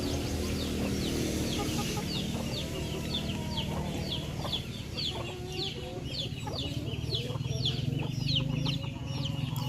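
Freshly released chickens cluck in a steady, overlapping chorus of short repeated clucks close by, over a constant low background hum.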